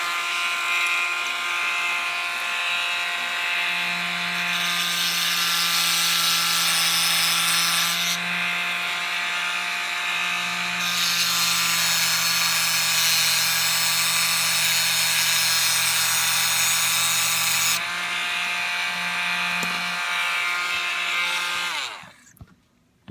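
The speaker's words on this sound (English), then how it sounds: "we're going to eliminate the chain, and to do that we will use the Proxxon tool here to" A Proxxon rotary tool cuts through a metal keychain chain link, a loud steady high-pitched whine with grinding that drops briefly in pitch as the load shifts, then stops abruptly near the end.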